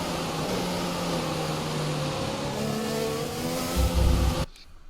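A racing car engine in a racing video game revs steadily and climbs through the gears, a loud continuous drone that rises in pitch before cutting off abruptly near the end.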